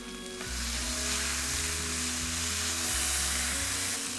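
Crushed ginger, garlic and cumin sizzle in hot ghee on a tawa, a loud, close, steady frying hiss that starts abruptly and carries on alone with faint stirring.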